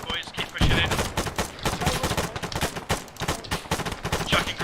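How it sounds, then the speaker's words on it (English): Rapid, sustained bursts of gunfire giving covering fire in a military video game, dense and loud throughout with overlapping shots and no clear speech. "I'll give you covering fire."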